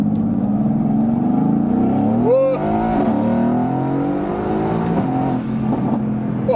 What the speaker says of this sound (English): this is going to be like the first full acceleration